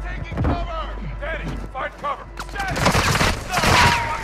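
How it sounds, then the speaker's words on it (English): Gunfire crackles in the Call of Duty: Modern Warfare II DMZ video game: scattered shots, then a dense fusillade of rapid bursts that builds loud near the end, with voices talking over it. "They're shooting at each other."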